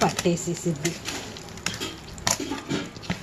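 Chicken pieces being stirred up from the bottom of a pan for a homemade chicken burger, with spoon scrapes and clinks over a soft sizzle, plus brief knocks against the pan.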